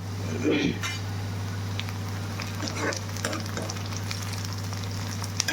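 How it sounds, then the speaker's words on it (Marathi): Cumin and mustard seeds frying with onion in a pan, giving a steady crackling sizzle with occasional stirring scrapes and a low background hum throughout. "ह्याच्यात त्यातली जिरी मोहरी टाकायची"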